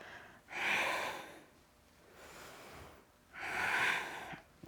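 Two strong breathy exhales, near and fairly loud, separated by a quieter stretch of soft breathing during a Pilates-style bridge exercise on a mat.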